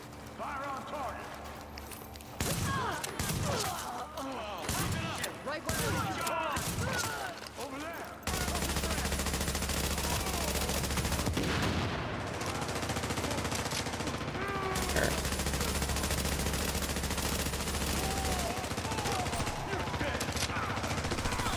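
Rapid gunfire bursts in Tom Clancy's The Division, loud and dense through the first stretch, then giving way to a steadier din of combat noise and rumble, with voices talking over it throughout.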